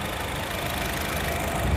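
A Honda HR-V car engine idles with a steady, close, continuous rumble throughout, no voices heard.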